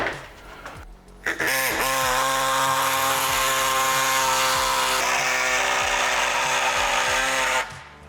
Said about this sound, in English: we're gonna take our air saw and try and cut as much of this off as we can